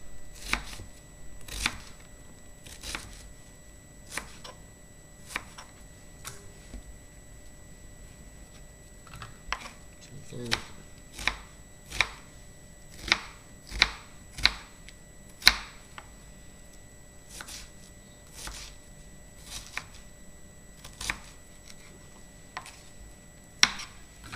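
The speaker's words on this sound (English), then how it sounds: "Then when you cut across, your onion will be nicely diced." A knife dices an onion on a cutting board in a steady series of crisp, close chops, some spaced and some in quick bursts, with no talking.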